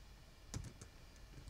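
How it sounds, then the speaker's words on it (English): A few quick keystrokes on a computer keyboard, faint and close, in a short burst of light clicks against a quiet room hiss. "I'm going to type in"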